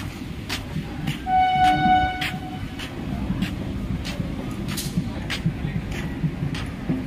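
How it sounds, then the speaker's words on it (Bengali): A small railway inspection car rolls through a station, with rhythmic clacks of wheels over rail joints, a low running rumble and a brief tonal horn-like note early on. A voice is heard faintly. "এই ট্রেনটা একবার লক্ষ্য করে দেখুন, কি সুন্দর ট্রেনটা, ছোট্ট একটা ট্রেন"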